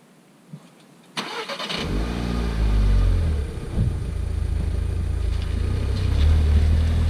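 VW Scirocco R starting up and pulling away, a sudden engine catch followed by a steady, close engine drone that rises slightly as the car drives.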